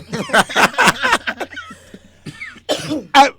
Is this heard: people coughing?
yes